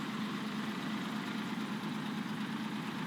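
A truck engine idling in the Snowrunner video game on Drummond Island, a steady low rumbling drone that holds evenly throughout without change in level.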